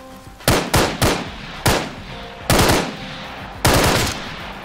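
Sniper rifle gunfire in the video game Arma 3, a series of loud, sharp cracks, three in quick succession then three more spaced out, each with a short echoing tail.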